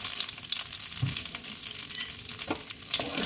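White cooking oil heating in a pan with leftover chicken frying oil before whole spices go in, a soft continuous sizzle and hiss with a few faint pops, quiet and close, no talking.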